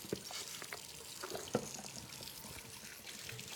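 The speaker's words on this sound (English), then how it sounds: "And I'm going to wash my hands." Hands are washed under a running kitchen tap, a soft steady trickle and splash of water with a few small knocks nearby and no talking.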